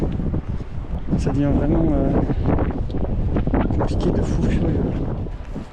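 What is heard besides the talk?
strong wind blowing in the mountains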